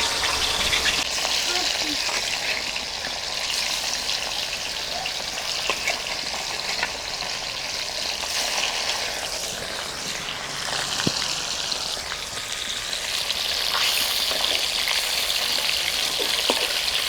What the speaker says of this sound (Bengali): তেল গরম হয়ে গেছে, এবার মাছটা আমি দিয়ে দিচ্ছি।